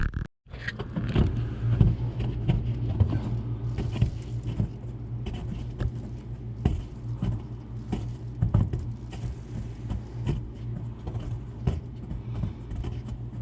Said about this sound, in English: It changed over about 10 minutes ago to rain, and now it's pushing all the snow off the roof.